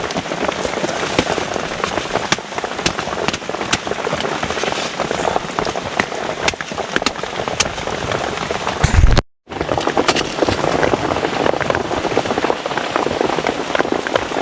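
Heavy rain pouring down in a mountain forest, a dense, constant patter drumming on surfaces with scattered louder drops. It is close and loud throughout, apart from a brief cut to silence partway through.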